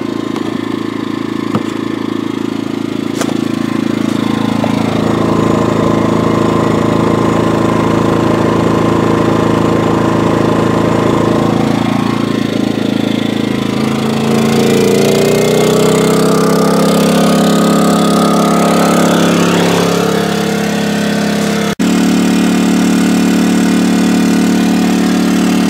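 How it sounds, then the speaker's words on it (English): Portable generator running steadily while charging a Tesla, a loud, continuous engine drone whose pitch and roar shift midway as the load changes, heard up close without any talk. "Okay, we've got the generator running."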